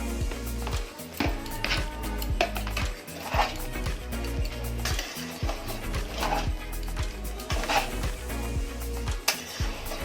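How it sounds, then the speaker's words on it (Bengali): A spatula scrapes and taps against a pan while egg bhurji, chicken and prawns are mixed into fried rice, giving steady rhythmic clatter and scraping close by. "এবার আমি এখানে ডিম ভুর্জি, চিকেন আর চিংড়ি মাছ সবগুলোকে একসাথে মিক্সড করে নেব।"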